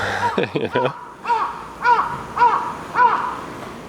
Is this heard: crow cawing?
yes